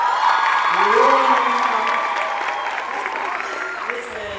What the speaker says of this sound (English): Give them one more clap